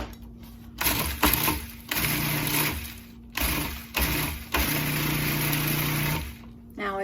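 An electric grinder chops about a quarter cup of dried oregano for herbed salt in several bursts of whirring motor noise, separated by short pauses, close and fairly loud.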